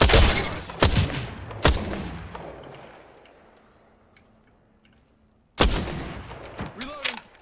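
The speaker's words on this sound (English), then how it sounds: "Getting shot at!" Gunfire in the mobile battle royale game Apex Legends Mobile: a few sharp, loud bursts early, a long quiet stretch, then another cluster of shots with ringing tails near the end.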